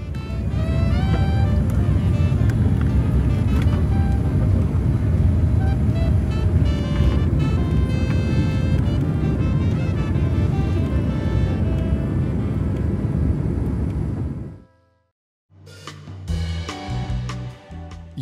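Cabin of an Etihad Airways airliner departing Abu Dhabi, a steady loud engine and air roar filling the space for about fifteen seconds before cutting out abruptly, then returning more unevenly.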